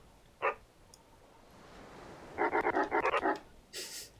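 A puppy character's bark emote in a video game sounds as one short yip followed by a rapid string of about eight clipped barks, close and fairly quiet.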